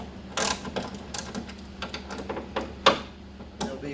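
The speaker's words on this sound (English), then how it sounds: "just take a 13 millimeter and loosen up the bolts" A 13 mm ratchet loosening the hood bolts on a 2019 Corvette ZR1 with an LT5 engine, giving a few separate faint mechanical clicks and ticks spread over a quiet garage background.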